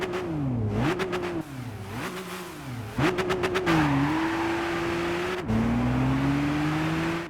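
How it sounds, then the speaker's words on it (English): Gran Turismo 5 (2010) video game car engines rev up and down in repeated bursts, pitch rising and falling with gear shifts, loud and continuous with a sustained climbing whine near the end. "Most cars sound muffled and distorted, and in some cases even downright unpleasant."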